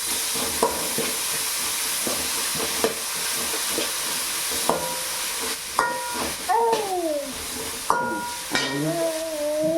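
Garlic and pepper fry for a crab gravy with a steady close sizzle. Periodic scraping and clinking strokes of a stirring utensil punctuate it, and a few brief tonal squeaks appear near the end.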